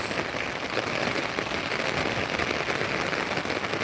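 Rain falls steadily and hard, a close, uniform roar of drops hitting the ground and nearby surfaces, with no one speaking over it.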